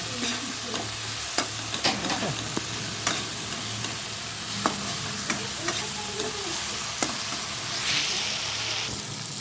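A spice mixture with sugar is stirred in a hot pan. Continuous frying sizzle is broken by repeated scraping strokes of the spoon, heard up close with no talking.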